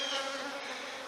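Honeybees buzzing around a hive frame while a colony is split: a steady, dense, close insect drone with no speech.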